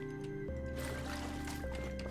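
Crops are watered in the video game Scrap Mechanic, soft liquid splashing and squishing over a steady tonal background hum, with a couple of abrupt changes as the watering starts and stops.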